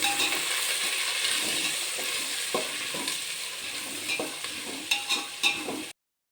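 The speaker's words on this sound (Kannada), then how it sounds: "ಇವಾಗ ಈರುಳ್ಳಿ ಮತ್ತು ಕರ್ಬೇವಿನ ಸೊಪ್ಪು ಹಾಕಿದ್ದೀವಿ. ಇದನ್ನು ಇವಾಗ ಚೆನ್ನಾಗಿ ಫ್ರೈ ಮಾಡ್ಕೊಳ್ಬೇಕು." Peanuts, chana dal, urad dal, onion and curry leaves fry in hot oil for tamarind rice, giving a steady close sizzle. A spoon stirs them with scraping clicks that grow sharper near the end before the sound cuts off.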